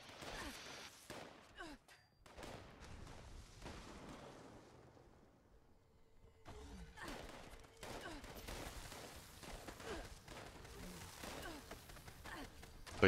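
Rapid bursts of gunfire from a Fallout 76 firefight, set in Atlantic City, crackling in dense volleys with scattered single shots and a brief lull midway before the shooting resumes loud and close.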